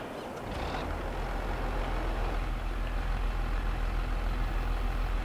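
A tractor engine in Farming Simulator 22 turns over after a brief quiet start, then settles into a steady, loud, low diesel idle that holds alone for several seconds.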